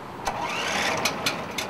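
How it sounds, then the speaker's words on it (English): Engine on a Toyota Hilux capstan winch system starting up with a steady mid-pitched rumble and a few short clattering peaks as it fires and runs, with no talk. "push and hold down the green engine start button until the engine fires and runs"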